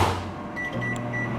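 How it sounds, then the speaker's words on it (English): A microwave oven hums steadily while heating a split-open pouch of Uncle Ben's rice, a low, even drone after a brief door clunk at the start, close and moderately quiet. "Throw it into the microwave"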